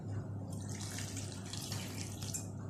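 Water pours steadily into a pot at home while a starch pudding mixture is being made, a continuous faint splashing trickle throughout with no talk.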